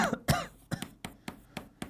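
Repeated coughing from one person in a math lecture room, about eight short dry bursts in under two seconds, close and fairly loud with no talking over them.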